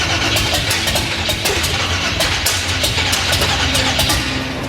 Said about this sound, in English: The All-Stars engine's backfiring right now because their distributor's 180 degrees out